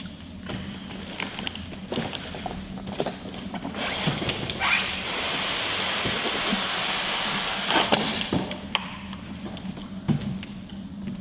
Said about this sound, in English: Carefully open the packaging.